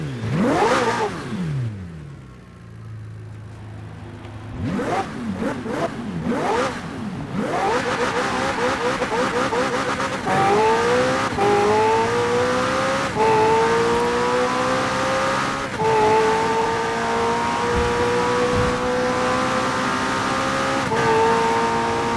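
A McLaren Senna, mid-engine and rear-wheel drive in stock form, is driven on a track in Forza Horizon 4: the engine revs hard, drops, then climbs through repeated rising gear pulls, loud and close, with no talk.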